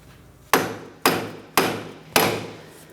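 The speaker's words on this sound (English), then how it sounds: "Now let's continue on tapping these bolts outward." Four sharp hammer strikes at a steady, slow pace, tapping out the bolts on a front right CV axle of a 2004-2008 Pontiac Grand Prix 3.8L V6. Each close, loud blow rings out and decays before the next.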